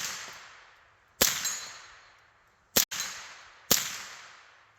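An AR-15 rifle fitted with a CMMG kit fires three sharp, loud shots in quick succession, each crack trailing off in an outdoor echo, with no voices.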